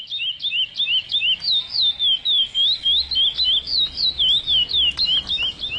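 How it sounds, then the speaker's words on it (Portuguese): Curió birds sing a quick, repeated series of bright whistled chirps, close and clear, in a steady rhythmic pattern over a faint low background hum. "No momento eu devo ter em torno de 65 curiós."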